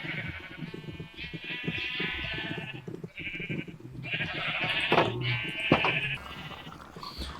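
Sheep in Minecraft bleat over and over in short wavering calls from several animals, close and fairly loud, mixed with low game noises and no clear speech.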